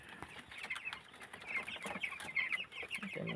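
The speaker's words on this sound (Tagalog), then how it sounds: "Broiler chicks." Broiler chickens clucking in a pen, a soft, busy chorus of overlapping clucks and chirps close by, with no talk.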